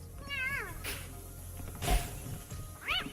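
A cat meows clearly three times, rising and falling calls spaced across the moment, with a short thump in between, no voices.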